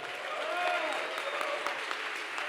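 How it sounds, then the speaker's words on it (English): An audience at a startup meetup event applauds loudly and continuously, with a few cheers and whistles rising through the dense clapping. "give him the biggest rock star applause"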